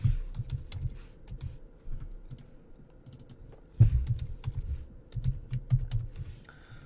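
Typing on a computer keyboard to name objects while 3D modeling nettle leaves, with close, irregular key clicks in short bursts and a couple of louder thumps, no talking.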